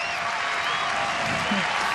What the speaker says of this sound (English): You can hear the crowd in anticipation for that 100.